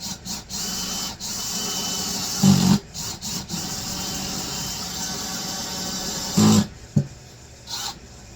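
A Craftsman cordless drill drives screws into fireplace trim in two short, loud whirring bursts separated by quieter shuffling, close by and without talk.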